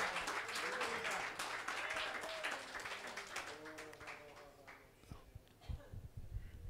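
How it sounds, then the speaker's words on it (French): A church congregation claps along, dense and lively at first, then thinning into scattered claps, with voices and some tonal sound mixed underneath. "Give the Lord a big clap in hand."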